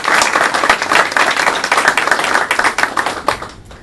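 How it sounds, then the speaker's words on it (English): Audience applause and clapping for grant partners at a college grant announcement, a dense, loud stretch of many hands that holds steady before thinning out near the end. "So a big round of applause for our partners."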